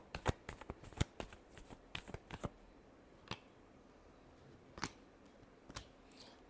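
Tarot cards are shuffled by hand in a quiet room, giving crisp, close snapping riffles that come in an irregular flurry and then thin out to occasional single flicks.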